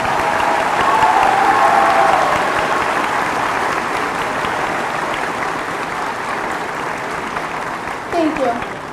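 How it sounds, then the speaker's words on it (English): Audience at a high school senior awards ceremony applauds special guests, a steady, full round of clapping that carries on throughout, with faint voices and a brief sound near the end. "Please join in applause as we recognize our special guests."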